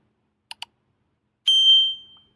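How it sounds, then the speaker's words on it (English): Two quick mouse clicks, then a bright bell chime rings out and fades away over about a second. "I just put the bell sound behind the click mouse."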